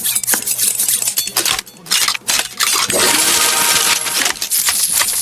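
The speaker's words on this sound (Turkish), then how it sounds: "Bozuk para sesi geliyor." Coin sound effects from PUBG Mobile, heard while an upgraded level 8 AUG weapon skin is shown, ringing out as a loud dense burst of metallic clinks over layered game effects.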